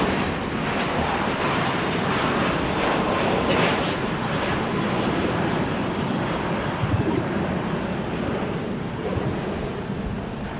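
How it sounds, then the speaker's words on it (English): A Boeing 777-300ER jet airliner arrives on runway 25 at LAX, its deep, steady jet roar filling the air loudly and evenly, with a slight swell before easing off a little near the end. "777-328ER. Just arriving on 25."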